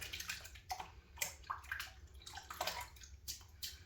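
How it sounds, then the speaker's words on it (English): Shaving brush bristles dipped and swished in hot water in a sink, giving close, irregular splashy sloshing and trickling with soft drips, alone without talk. "Dip the bristles into the hot water in my sink."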